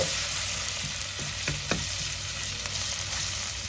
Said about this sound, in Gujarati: પછી આ લસણ સાંકળી દઈશું આપણે તેલમાં